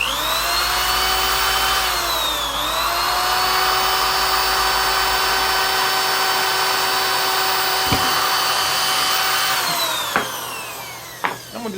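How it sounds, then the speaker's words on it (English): Power drill with a 1/8 inch bit boring a hole in the center of an end piece: a loud, sustained whine that dips in pitch under load partway through, then winds down near the end. "I'm going to drill a hole right in the center."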